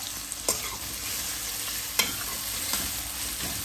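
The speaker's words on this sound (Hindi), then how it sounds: "इसको एक से दो मिनट हम जो है वो इसी तरह ऑयल में हिलाएंगे" Onions with salt stirred and fried in oil, a constant close sizzle broken by a few sharp scrapes of a spoon against the pan.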